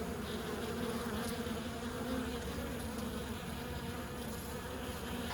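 Bees buzz steadily at close range as a gray bee, coated in pollen with loaded pollen baskets, forages among flowers; a continuous insect drone with no talk.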